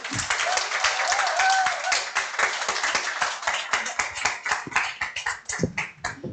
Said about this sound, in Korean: 큰 박수 주세요.